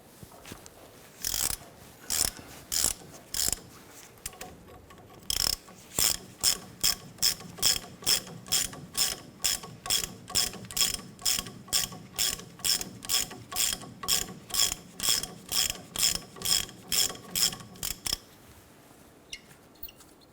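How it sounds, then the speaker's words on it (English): A ratchet fitted with a 21mm socket turns a nut off the front end of a 1993-1997 Ford Ranger during inner tie rod work, giving long runs of rapid, close clicking bursts in steady rhythm, with no talk. "We're going to go ahead and use our 21mm socket and our ratchet."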